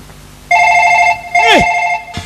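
A mobile phone rings with a loud, close electronic tone, a sustained ringtone sounding twice in bursts, broken by a brief sweeping whoosh.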